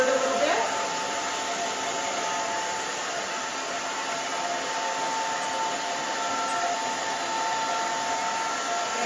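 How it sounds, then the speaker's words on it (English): Blow dryer running steadily while drying short pixie-cut hair with bangs, a constant close whooshing roar throughout, with faint talk underneath. "Is going back and forth as I bring the blow dryer around."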